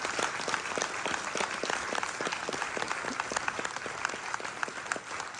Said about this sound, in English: And a big applause to my two assistants.